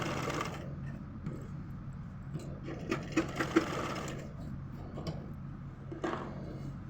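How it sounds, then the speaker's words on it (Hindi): A sewing machine stitches salwar fabric in short, quiet bursts of fast mechanical whirring, stopping and starting several times close by with no talk. "और इस पर सिलाई लगा लेंगे"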